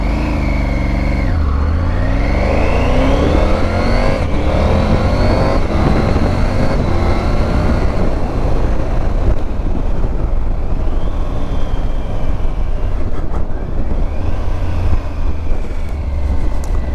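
A Triumph Tiger 900 GT Pro motorcycle accelerates hard, its engine loud and close as the pitch climbs steadily through several gear changes without pause.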